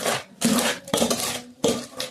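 Cooked dal being mashed with salt in a pot, giving repeated scraping, squelching strokes of a utensil against the pot in uneven bursts, close and fairly loud, with no talking.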